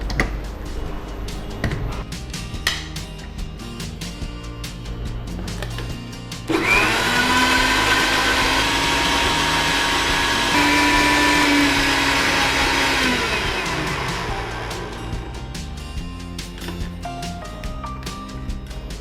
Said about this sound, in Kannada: ಈಗ ಇದನ್ನು ನೀವು ನನಗೆ ಮಿಕ್ಸಿ ಮಾಡಿ ಕೊಡಿ.